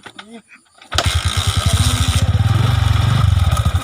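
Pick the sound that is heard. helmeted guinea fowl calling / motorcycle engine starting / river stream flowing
motorcycle engine starting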